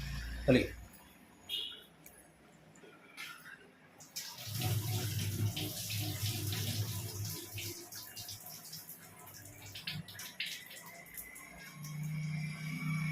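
A tap runs in a steady, moderately loud stream while rice is prepared for biryani, after a few scattered knocks and clatters.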